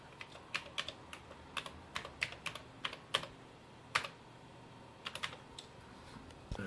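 Close, clicky keystrokes on a computer keyboard, typed in quick uneven bursts with short pauses, while entering a modem dial command to log in to a C-Base bulletin board system, with no talk.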